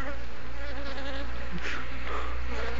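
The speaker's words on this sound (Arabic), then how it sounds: "طبعا يا محمد، من مشكلة النحل، تربية النحل في مصر هنا" Honeybees at an Egyptian beekeeping hive make a loud, close, continuous buzz with wavering pitch as several insects fly around, no speech over it.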